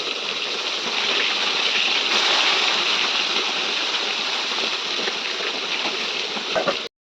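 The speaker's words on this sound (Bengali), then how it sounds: "যেহেতু জ্যান্ত রুইয়ের সাথে কটা বাটাও ছিল, তো বাটা মাছটাও ভেজে নেব" Live rohu and bata fish frying in hot oil in a wok, a steady dense hissing sizzle at moderate level that holds throughout and cuts off abruptly at the end, with no talking.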